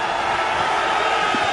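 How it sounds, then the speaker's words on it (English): A stadium crowd roars at a 2001 XFL football game between the Memphis Maniax and the Los Angeles Xtreme in the Coliseum, a loud, steady, dense wash of cheering with no breaks. "Crowd is alive here in the Coliseum"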